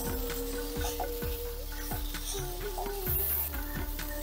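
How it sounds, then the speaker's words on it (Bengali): Young jackfruit curry with tamarind fries in a pan, a gentle steady sizzle broken by repeated scraping stirs of a spatula, heard up close at a modest level. "একটু ভেজে নিলাম।"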